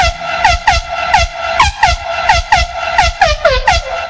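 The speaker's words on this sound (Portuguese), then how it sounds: "Vou soltar só um pouquinho das cornetas, só para dar uma assustadinha em você" Loud air horn blasts in a rapid rhythmic sequence, short repeated honks with falling pitch, about a dozen over a few seconds, no talking.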